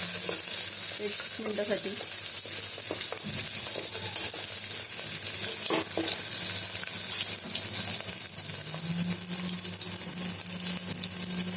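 Food sautés in a hot pan, a continuous steady sizzle and frying crackle throughout with occasional stirring scrapes, while a voice speaks briefly.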